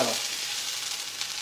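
Crushed red pepper dropped into hot oil, a bright burst of sizzling that settles into a steady crackling hiss, close and brief, with no talking.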